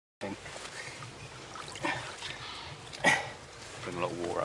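Water trickles and splashes off a landed carp as it is lifted from a lake, an uneven run of close dribbling and spattering with people talking quietly nearby.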